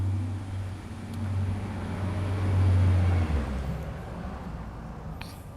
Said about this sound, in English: If it's not a truck, then it's a helicopter or an airplane